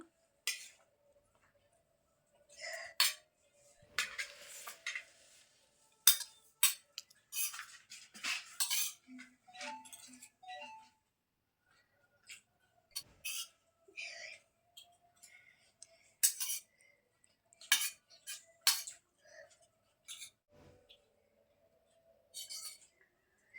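A metal spoon clinks and scrapes against a dish while scooping chire pulao, a fluffy flattened-rice pilaf, in a series of short, close, irregular taps and scrapes with quiet gaps between them.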